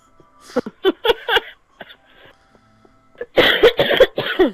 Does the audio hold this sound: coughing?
yes